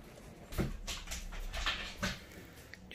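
Dogue de Bordeaux and French Bulldog dogs whimper and whine close by at feeding time, several short, breathy yelps overlapping against a low background rumble.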